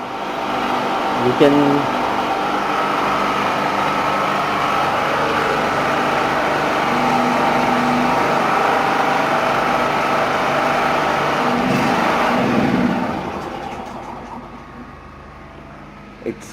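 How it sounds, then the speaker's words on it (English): A generator engine runs with a steady, loud hum and a droning tone, then winds down as it switches off near the end. A few words are spoken briefly. "now listen the generator sound carefully."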